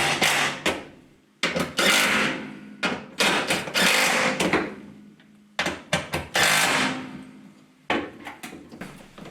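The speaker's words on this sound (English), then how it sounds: "The cables are clipped onto the stick, and then the assembly gets bolted down onto the brackets." Work on a turbocharged four-wheel-drive Austin Mini GT-Four: the gear stick assembly is bolted onto its brackets, with repeated bursts of ratchet or tool clatter separated by brief silences, close and fairly loud.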